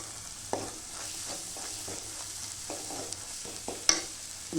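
Spiced masala for a chickpea curry frying in oil in a pan, a low steady sizzle with repeated stirring scrapes and a sharper clink near the end, close and moderately quiet with no talk.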